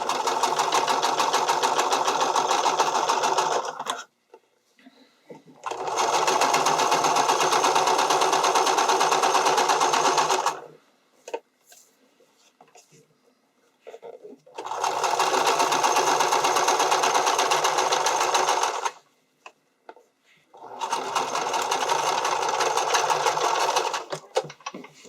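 A sewing machine sews a seam on a strappy underwire bikini top in four long, steady runs of fast, even stitching. Quiet pauses with faint handling clicks fall between them.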